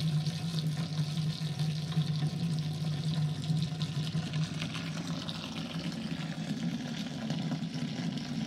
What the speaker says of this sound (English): So we are transferring it to the fermentation vessel.